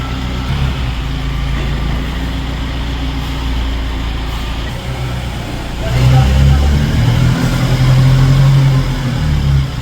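A loaded SML truck's diesel engine runs steadily while maneuvering in reverse, growing louder and heavier as it revs up partway through, with low rumble throughout and faint voices nearby.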